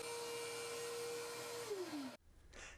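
A wood router spinning at high speed with a steady whine, winding down near the end before a brief quieter stretch; it was used to put a small 1/8 inch round-over on the edges of 1/4 inch boards.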